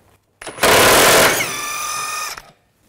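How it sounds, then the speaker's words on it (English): Power tool with an 18mm socket backing a bolt out of the front lower control arm on a 2006-2010 Volkswagen Jetta, a loud close burst of whirring that shifts to a higher steady whine before cutting off. "Now I'm going to take this bolt out,"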